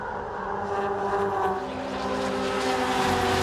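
Tin top race cars at Queensland Raceway roar past in a sustained, loud engine drone that builds steadily, heard alone without talk.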